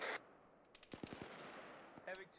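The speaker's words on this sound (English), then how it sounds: "It's probably 240s firing at the Zeus cannon on the other side of the hill." Distant M240 machine gun fire in a military video game, a short burst of rapid, faint shots with a quiet voice at the start and end.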